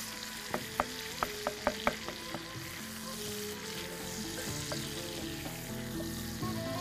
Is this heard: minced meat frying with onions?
yes